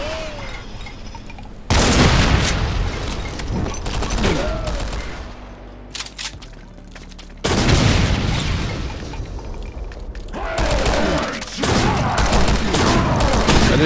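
Loud shotgun blasts crack out again and again in the video game Project Brutality Brutal Doom, dense bursts of gunfire and booming impacts filling the clip, close and forceful with brief lulls between volleys.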